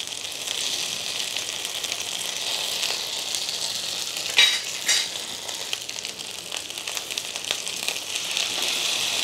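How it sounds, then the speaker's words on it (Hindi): Chicken pieces for Afghani chicken sizzle steadily in hot oil on a grill pan, a continuous close frying hiss with brief louder spatters as the pieces are turned. "और हमें इसे बढ़िया से ग्रिल करना है।"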